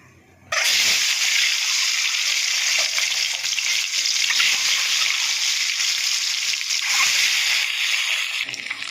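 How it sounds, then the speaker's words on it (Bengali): Eggs frying in hot oil, a loud, steady sizzle that starts abruptly and crackles evenly throughout. "বন্ধুরা, আমার তেল গরম হয়ে গেছে, আমি এবার ডিমগুলো ভেজে নেবো।"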